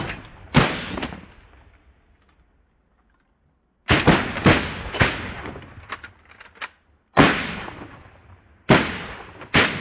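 Four sharp shotgun blasts crack out during a Michigan goose hunt, each echoing and tailing off over a few seconds, with one pair close together then two more spaced apart, loud and near with no talk between shots.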